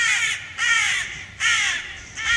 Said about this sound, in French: Regardez le gros oiseau, le corbeau.